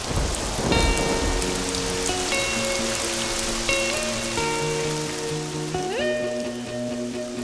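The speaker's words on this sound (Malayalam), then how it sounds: "പുറത്താണെങ്കിൽ ഫുൾ മഴയാ" Heavy rain falls outside in a steady dense hiss, with sustained musical tones playing over it throughout.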